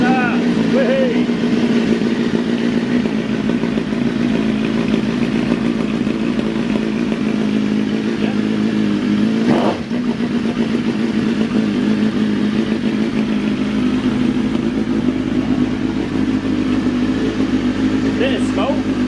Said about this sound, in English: So we press the starter button. And start!